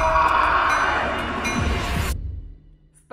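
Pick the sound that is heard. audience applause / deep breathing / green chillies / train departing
train departing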